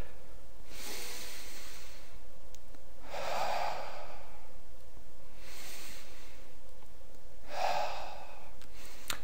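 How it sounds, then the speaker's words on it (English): Slow, deep breathing while holding yoga tree pose, with three long audible exhales spaced a few seconds apart over a constant background hiss. "take a couple breaths."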